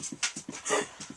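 A dog gives a run of short, rough, rhythmic coughs and huffs, close by, several in quick succession.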